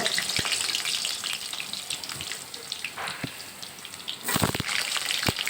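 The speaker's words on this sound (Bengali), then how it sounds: "এদিকে আমি চিকেনের জন্য আলুটা ভেজে নেব" Potatoes for a chicken dish fry in a pan with a steady, close sizzling hiss, broken by a few sharp clatters and a louder burst of spatter near the end as more go in.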